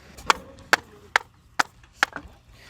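Kiln-fired clay brick from a brick kiln struck repeatedly to judge its quality, giving five or six sharp, hard knocks spaced about half a second apart, close and fairly loud with no talking.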